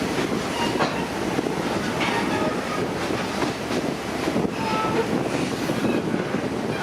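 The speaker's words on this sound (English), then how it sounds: "the little engine that could is pulling us on up the mountain" A 1940 vintage scenic railroad train climbing a mountain beside the Hiawassee River, its cars rumbling and wheels clicking steadily on the track in a continuous, close, even roar.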